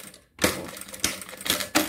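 A sewing machine backstitches across the teeth of a zipper on a tablet case, with sharp, loud bursts of rapid stitching broken by brief pauses.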